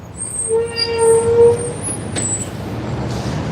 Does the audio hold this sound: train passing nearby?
yes